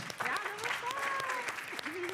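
Applause at a university awards ceremony for prize winners: steady clapping throughout, moderately loud, with voices talking over it.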